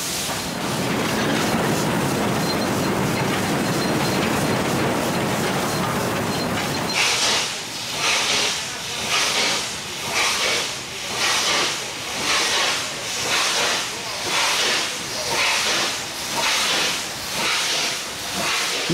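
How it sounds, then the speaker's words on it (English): A loud, continuous hiss of steam, giving way to rhythmic chuffing pulses as a steam locomotive pulling the Pondicherry special works slowly into a station in southern India. "Nothing evokes the romance of the railway like a steam engine."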